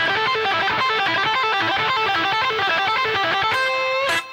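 A distorted electric guitar plays a fast, repeating pentatonic run of notes, ending on a sustained bent note with a brief squeal.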